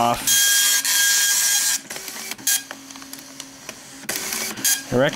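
Citizen GSX-230 color dot-matrix printer printing, its head buzzing loud and shrill in long bursts with brief pauses and mechanical clicks as the ribbon advances, up close with no talk.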